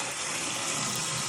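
Steady running water from a kitchen tap rinses starch off food for an Italian casserole, a continuous broadband hiss close by with no talking.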